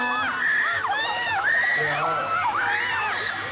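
A crowd of fans at a BigBang meet and greet at the Yamaha stand of the Bangkok Motor Show screams in sustained, high, wavering shrieks and cheers, loud and close throughout.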